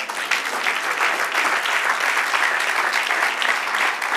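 Sustained applause from a church congregation, broad and even throughout, rolling on without break and without voices rising above it.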